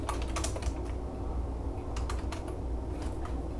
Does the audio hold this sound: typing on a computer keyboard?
yes